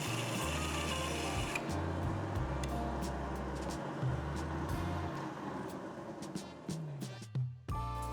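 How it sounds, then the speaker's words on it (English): A metal vertical bandsaw in a shop hums steadily with a droning low tone and pulsing motor, the blade whirring close by before the machine winds down near the end. "When you are finished with the metal vertical bandsaw, turn the machine off"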